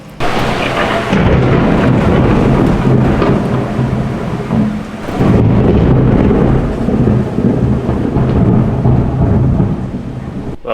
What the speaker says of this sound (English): It's raining again. Rainy season, winds here in Manila.